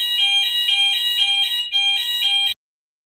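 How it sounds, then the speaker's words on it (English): A fire alarm blares indoors, a loud, shrill electronic tone pulsing steadily in two long bursts with a brief break between them before cutting off abruptly into silence. "mute myself because the fire alarm went on"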